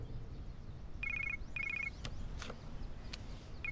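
A phone rings in short repeated electronic trills, a few bursts in a row, faint against background noise and scattered clicks.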